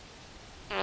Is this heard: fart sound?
yes